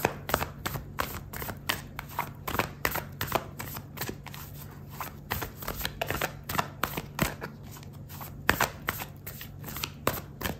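Oracle cards shuffled by hand in a quick, steady riffle of soft papery flicks and slaps, close and continuous with no talking.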